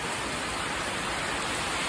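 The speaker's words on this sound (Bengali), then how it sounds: "মানে এই ঝড়ো বৃষ্টি" Heavy, windy rain roars in a dense, unbroken hiss, loud and close throughout.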